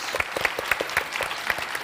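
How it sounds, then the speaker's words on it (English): A conference audience at the SHE Conference in Sofia's NDK applauds a panel, a short burst of dense clapping at moderate loudness with no talk over it. "a big round of applause for this amazing panelists"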